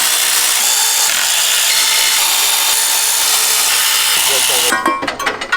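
A power tool works loose the 1320 turbo manifold on a Honda CRV with a loud, steady grinding whir that cuts off near the end, leaving scattered clanks and rattles.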